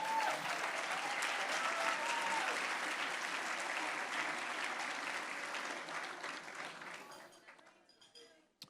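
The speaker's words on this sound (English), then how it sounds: "A round of applause." Audience applause at a Blue Ribbon Bash charity auction to end child abuse: a sustained, dense wash of clapping from a large crowd that holds steady, then thins and fades in the last couple of seconds.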